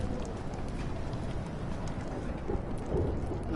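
A thunderstorm with heavy rain rages in the video game Life is Strange Remastered, a dense, loud, continuous downpour with low rumbling thunder underneath.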